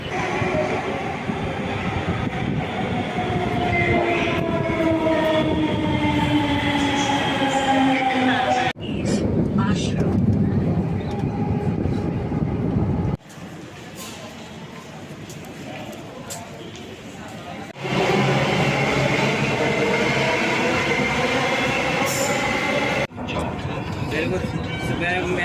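A Delhi metro train rumbles loudly, its electric motors whining up in pitch as it gathers speed, with the noise cutting between stretches of travel.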